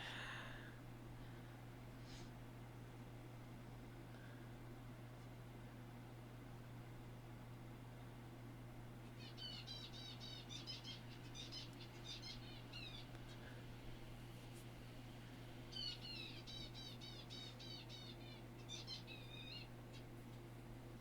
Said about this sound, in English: You probably hear the finches singing in the background.